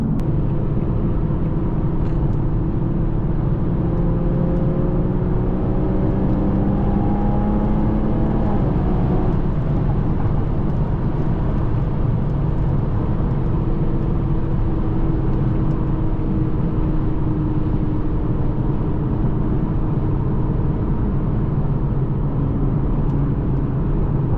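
A 500-horsepower 2020 Toyota Supra cruises at night, its engine droning steadily beneath heavy road and wind rumble from inside the cabin, with a few gentle rises and falls in revs.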